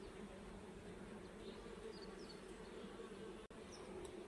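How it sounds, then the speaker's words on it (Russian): Bees buzz continuously around a blossoming apple tree, a soft steady outdoor hum with individual insects droning past, fairly faint and with no talking. "Пчелы жужжат везде."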